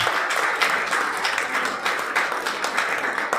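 A church congregation applauds at a worship service, a dense, steady wash of many hands clapping together at close range for several seconds, with no pauses.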